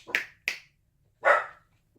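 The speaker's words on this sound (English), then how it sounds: "Dogs were barking at something." Dogs bark nearby, two quick sharp barks followed by a longer, louder one after a short pause, then quiet, with no one talking.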